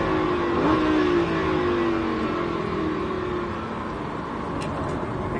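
A Lamborghini Huracan accelerates around the Mettet race circuit, its engine a steady loud drone whose pitch climbs briefly, then holds in a sustained roar with no voices over it.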